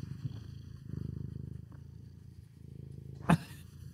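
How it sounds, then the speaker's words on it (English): A male cat purrs up close as a low, steady rumble that swells and eases, with a brief sharp noise near the end. "Purr for the people."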